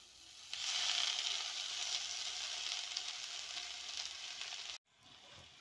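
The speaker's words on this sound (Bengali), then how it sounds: "দেখুন শুশনি শাকটা দিতে এখানে শুশনি শাকটা একটুখানি হয়ে গেল ভাজতেই।" Sushni greens and vegetables frying in a pan for a Bengali chorchori, giving a steady close sizzle that swells after half a second and holds before cutting off briefly near the end.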